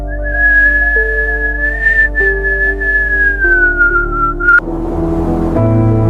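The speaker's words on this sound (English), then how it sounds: "The sound of the wind whistling across the mouth of the hole." Wind whistles across the mouth of a hole: a sustained, wavering high whistle drones over a low steady rumble, shifting pitch slightly before dropping away into lower tones.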